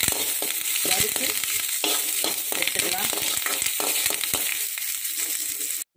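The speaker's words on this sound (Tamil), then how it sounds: "கறியப்பிலையும் நாலு போட்டு இந்த எண்ணெயிலையும் வறுத்து" Curry leaves fry in hot oil for sambar rice, a loud continuous crackling sizzle with sharp popping bursts and stirring scrapes, then abrupt silence near the end.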